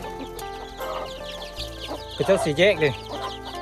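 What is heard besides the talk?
chickens clucking in a Hmong mountain village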